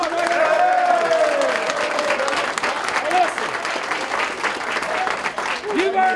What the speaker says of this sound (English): Give yourself a round of applause right there.